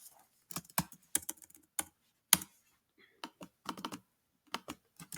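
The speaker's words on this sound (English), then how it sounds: "we're going to type in each column as follows" Typing on a computer keyboard, with close, crisp key clicks in irregular clusters and short pauses, loud and clear with no voice over them.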